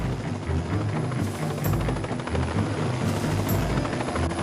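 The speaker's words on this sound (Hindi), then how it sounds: "ये हेलीकॉप्टर कहां से आया?" A helicopter flying in and landing, its loud close rotor chopping in a steady rapid rhythm with pulsing low thumps throughout.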